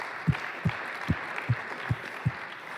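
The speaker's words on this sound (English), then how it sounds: "I just want to give them a round of applause for just being generally awesome." An audience at a programming tournament final applauds in a hall, a soft crowd clapping underneath with about six louder, evenly spaced claps standing out close by.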